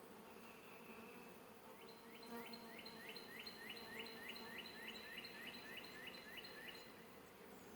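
Honey bees buzzing inside an open hive, a soft continuous drone with a fluttering chirp-like pulse rising over it midway, quiet and close.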